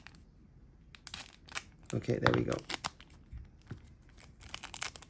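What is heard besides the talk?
cutting open an MTG booster pack wrapper with a blade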